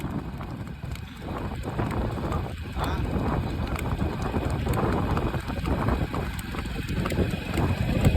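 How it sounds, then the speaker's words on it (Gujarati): Steady clip-clop of a mare's hooves on a hard road with a continuous rumble and wind noise; no voices. "ઘોડી તો ઉપડી ગઈ"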